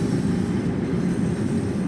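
A London Underground 1972 stock train runs in Train Sim World 2, a steady low rumble and rolling rail roar heard close and continuous with no talk.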